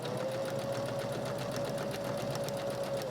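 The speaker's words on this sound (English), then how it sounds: "that my fabric is already grabbed when I start stitching" Sewing machine running steadily while stitching fabric for a lanyard, a continuous close whirring hum with rapid needle rhythm throughout.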